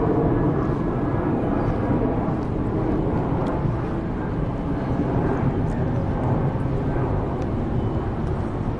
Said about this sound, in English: I'm gonna wait till this plane goes over